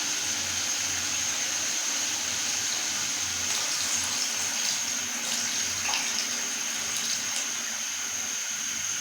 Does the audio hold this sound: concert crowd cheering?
no